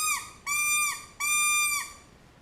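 A mouth-blown squirrel hunting call gives a few close, clear, reedy whistling notes, each a short blow with a tapering end, with no other sounds.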